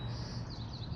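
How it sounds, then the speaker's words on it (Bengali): Birds call outdoors on a quiet Sunday morning walk near hills, a few faint, short chirps rising over a low steady background rumble. "পাখির ডাক শোনা যাচ্ছে"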